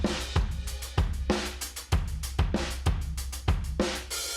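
A banjo hip hop track plays, plucked banjo notes riding over a looped drum beat with punchy, evenly spaced kick hits in a steady rhythm, no voices.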